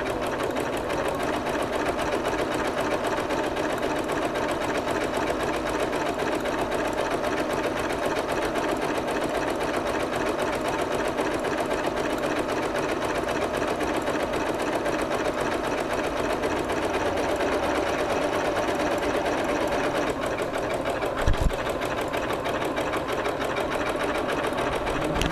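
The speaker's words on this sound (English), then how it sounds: "So now we're going to sew a decorative stitch with twin needles." A Janome MC12000 sewing machine stitches a decorative twin-needle pattern, a steady fast mechanical whir and rapid needle clatter running continuously, close and moderately loud, with a brief thump near the end.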